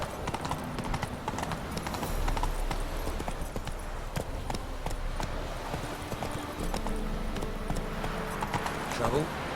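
The horse Roach galloping in a video game, a quick rhythmic clip-clop of hooves running steadily at moderate volume, with a brief whinny and game voices speaking over it.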